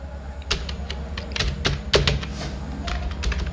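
Keys tapped on a computer keyboard while a user ID is entered, a string of crisp, close clicks in uneven bursts over a low steady hum.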